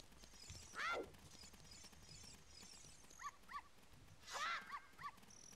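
A dog in The Legend of Zelda video game giving a few short yips and whimpering barks in small bursts, faint over a quiet game background.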